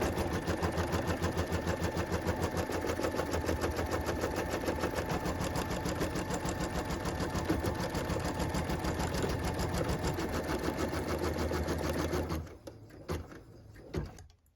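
An embroidery machine stitches placement lines for pieced heart blocks, giving a steady rapid mechanical chatter at close range that runs without pause for about twelve seconds, then stops, leaving a few faint clicks.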